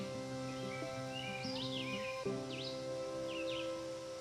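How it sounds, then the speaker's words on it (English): Small birds chirp and twitter in a flower garden in 2024, with several short high calls scattered over a steady low background hum, fairly faint and no voices. "Listen to the birds."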